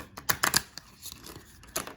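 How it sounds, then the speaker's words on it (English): Tarot cards are shuffled by hand: quick papery riffles and flicks in short bursts, close and soft, with quiet gaps between them. "That wasn't a good shuffle."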